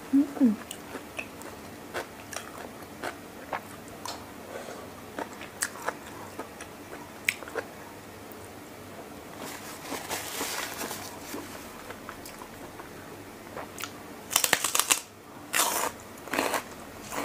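Close, crisp bites and crunching chews of a Thai salmon and seafood rice-noodle salad with raw vegetables come in irregular clusters, growing louder and denser toward the end.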